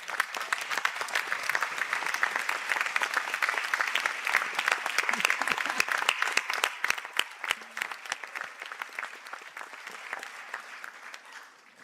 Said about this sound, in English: give your supporters a well-earned round of applause